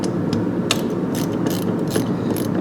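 A ratchet tightens a bolt on a car's wiper motor, giving rapid, loud, close-up clicking in quick irregular bursts.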